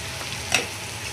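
Spices such as red chilli powder, turmeric and garam masala sizzling in hot oil for a drumstick curry, a close, continuous frying crackle with one brief louder stir or scrape midway, no voices.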